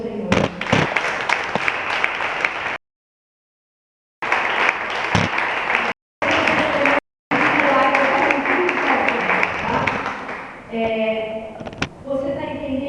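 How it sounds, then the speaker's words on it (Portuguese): A congregation applauds in a church service, dense clapping and crowd noise broken by sudden cuts of silence, with voices and sung tones emerging toward the end. "Pode aplaudir o Senhor."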